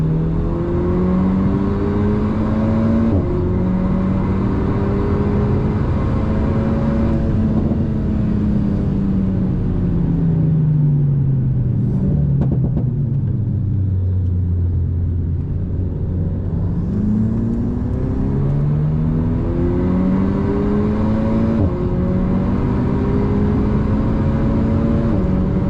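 An Alpine A110 S runs on the wet Spa-Francorchamps circuit. Its engine drones loudly and continuously, the pitch sweeping up and down as the throttle is eased and reapplied, with no talking.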